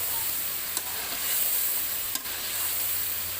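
Chicken korma frying in a pan, a steady bright sizzle and hiss running throughout, broken by a couple of sharp spoon scrapes or taps, no voices.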